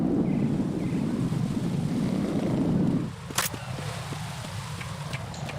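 Harrier jet engine in Metal Gear Solid 2, a loud steady low roar that cuts down partway through, followed by a quieter spell with a few sharp clicks and taps.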